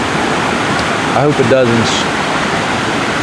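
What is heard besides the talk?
creek running after heavy rain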